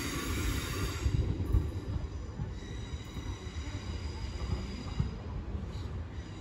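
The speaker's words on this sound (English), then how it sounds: "The 9:34 London North Western Railway service to Birmingham." A London Northwestern Railway train passes at Northampton station, giving a continuous rolling rumble of wheels on rails with faint high squealing tones laid over it at moderate loudness.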